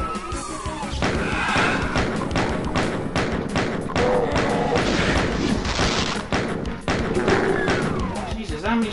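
Gunfire in the DOOM video game, a rapid, dense barrage of loud shots and heavy thuds running continuously under people talking.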